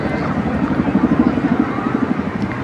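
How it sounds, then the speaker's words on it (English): Chinook helicopter flying at the Torbay Airshow, a steady rotor thrum with rapid low pulsing, held at a moderate distance throughout beneath a commentator's voice. "The Chinook's been continually used on battlefield helicopter support operations for 36 years."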